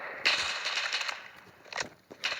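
Gunfire in the Roblox shooter Lost Front: a burst of rapid shots followed by a pause, then a few more isolated cracks, fairly close and heard without speech.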